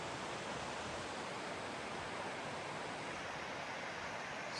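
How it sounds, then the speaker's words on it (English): A small waterfall near Pincher Creek, Alberta, heard on a mountain hike, gives a steady, even rushing of water, a soft continuous wash with no breaks or voices. "Nice little waterfall."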